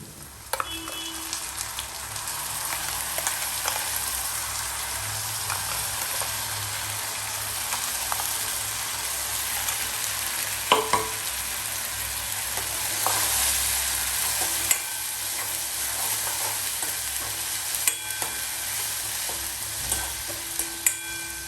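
Ginger, garlic, onion and green chili paste sizzles and fries steadily in a hot pan, with occasional stirring scrapes and clinks over a dense, continuous crackle and no talk.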